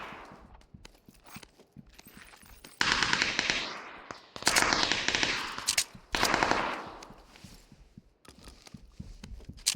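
Bursts of automatic gunfire in a PUBG battle royale match ring out in loud dense volleys, with quieter scattered shots between them and no talking.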